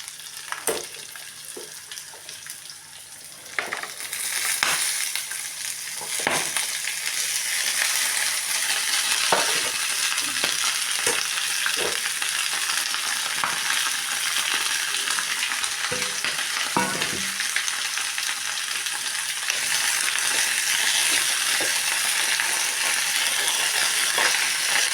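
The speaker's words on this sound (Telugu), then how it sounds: "ఇక్కడ దొండకాయలు కూడా వేసుకుంటున్నాను." Ivy gourds sizzle and fry steadily in a pan, a continuous bright hiss broken by occasional scrapes and stirring clatters, close and with no talking.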